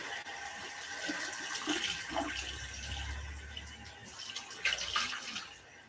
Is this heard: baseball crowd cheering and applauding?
no